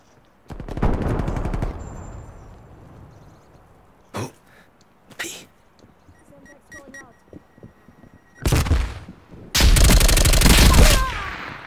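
Gunfire in the video game Call of Duty Black Ops Cold War: loud, close bursts of rapid automatic fire separated by gaps of quieter game sound, with a long sustained burst at the end.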